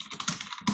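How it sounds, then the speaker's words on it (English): Quick, close clicking keystrokes on a computer keyboard, a short rapid burst of typing with no voices. "Keyboard's a little loud."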